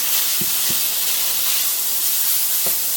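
Kimchi fried rice sizzles loudly and steadily in a hot pan as a bowl of cooked rice is added, giving a bright continuous hiss. A few soft knocks from stirring sound near the start and end.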